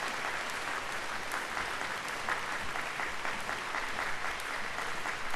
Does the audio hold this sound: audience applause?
yes